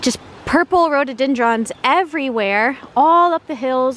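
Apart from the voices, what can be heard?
None of the usual background noises is heard.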